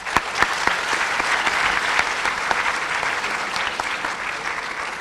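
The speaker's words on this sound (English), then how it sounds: "Give a round of applause for all the ones who go above and beyond to make this world a better one." Loud, sustained applause from the audience at a Cyprus Friendship Programme certificate ceremony, many hands clapping steadily with a few sharp nearby claps standing out.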